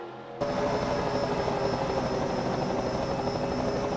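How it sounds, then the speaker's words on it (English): A helicopter's rotor drones steadily and loudly after a brief quiet start, a constant close whirring that never lets up, during a race. "helicopter."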